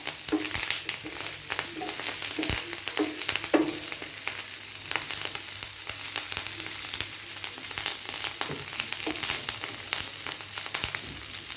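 Prawns with curry leaves fry with a steady, crackling sizzle. Frequent scraping strokes and clicks from a stirring utensil against the pan keep the sound busy and close.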